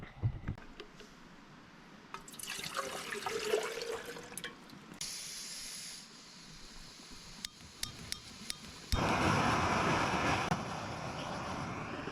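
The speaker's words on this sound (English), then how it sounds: "Supposed to use like a half a cup of milk and the rest water with this" Water pours into a container to prepare a backpacking meal in the wilderness, coming in several separate streams, each hissing and splashing, with the last pour the loudest and longest.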